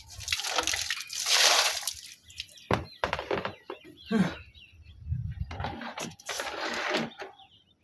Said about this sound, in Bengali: পানি জমা গেছে, উবুত করে রাখতেছি।